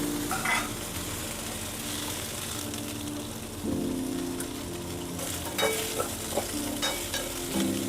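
Small onions frying and being stirred in a pan for a village-style country chicken curry, with a continuous soft sizzle broken by scraping stirs and spatula knocks, close and alone without talk.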